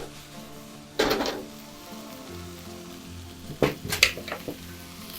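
Minced meat frying in a pan for a red wine and walnut pasta sauce, a steady low sizzle with a louder crackling burst early on and a few clinks and scrapes near the end.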